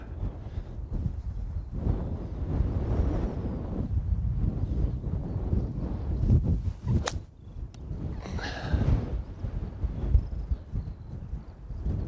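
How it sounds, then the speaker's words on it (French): Strong gusting wind on a golf course buffets the microphone with continuous low rumbling and a few sharper flutters, loud and close, with no talk over it. "Oh le vent."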